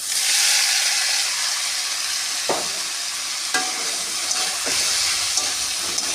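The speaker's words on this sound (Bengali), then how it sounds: "মেখে রেখেছিলাম সোয়াবিনগুলো আমি দিয়ে দেবো" Steady, hissing sizzle of marinated soya chunks frying in hot oil with cumin, close and continuous, with a few sharp clinks of a spoon against the pan.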